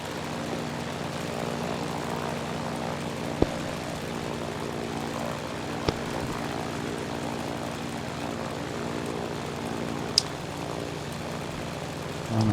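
Grumman F4F propeller fighter's piston engine drones steadily through a landing approach, a continuous loud hum with harmonic throb and a few sharp clicks, no talk.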